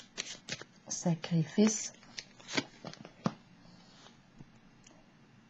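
Tarot cards are shuffled in quick bursts of riffling and soft slaps, close and crisp, while a voice speaks over them.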